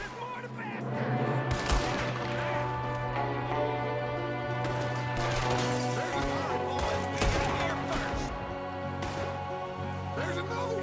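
Enemy gunfire in Red Dead Redemption 2 crackles in scattered sharp bursts throughout, mixed with a steady game soundtrack and shouted voices.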